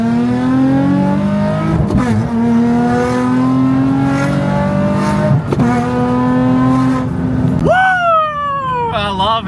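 A car engine revs hard and climbs through second and then third gear, loud and close, with sharp breaks at each shift and a final rising pull.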